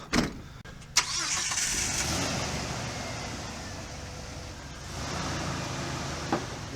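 A 2005 Jeep TJ engine fires up with a sharp bump and settles into a steady, moderately loud running hum as the vehicle begins to move, with a faint knock near the end.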